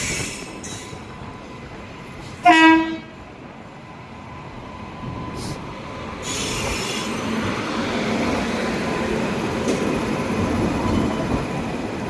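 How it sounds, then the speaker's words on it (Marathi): The Indore–Kochuveli Netravati Express rumbles steadily along the platform with a sharp squeal of wheels near the start, followed by a continuous rolling roar that grows slightly louder. "ट्रेन आमची अर्धा तास लेट आहे नेत्रावती एक्सप्रेस इंदोर आली"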